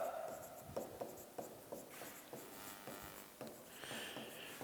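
Chalk or marker writing on a board during a Hindi teaching lesson, with a series of short scratchy strokes and taps, fairly close, running steadily with no talk over it.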